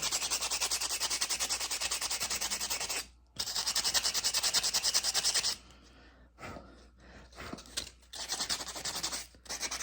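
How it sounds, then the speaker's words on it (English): Rusty clippers scraped with coarse 50 grit sandpaper: steady rapid abrasive rubbing strokes, loud and close, with a short pause, then sparser, choppier scratching passes. "I wanted to be able to use this 50 grit sandpaper to get it kind of loosened up"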